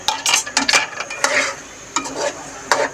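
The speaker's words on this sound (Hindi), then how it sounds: "ये 1/4 कप घी है मेरे पास, ये हम इसमें डाल देंगे और इसे अच्छी तरह से भून लेंगे।" Chicken karahi cooking in ghee with green chillies over high heat, a spoon scraping and stirring the pan in quick irregular strokes over a soft sizzle, close by and without talk.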